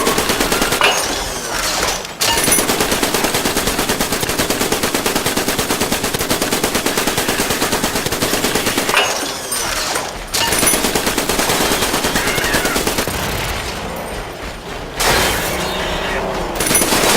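Sustained automatic turret gunfire rattles almost continuously in the Iron Brigade video game, loud and dense, broken by two short pauses and a brief dip near the end, with explosive bursts mixed in and no voices.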